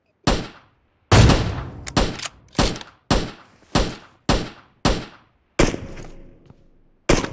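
Gunshots in a video game, a series of about nine sharp, loud reports at uneven intervals, each decaying quickly, with no talk over them.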